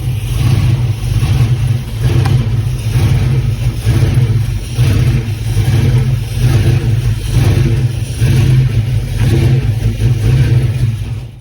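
A car engine runs after being jump-started with a jump box, a loud, close, steady mid-pitched drone with a gently pulsing rhythm and mild swells in level.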